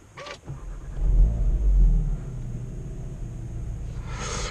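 The engine of a 2017 Seat Leon Cupra 300 rumbles at close range. A deep swell builds after a short click, then settles into a steady idle drone.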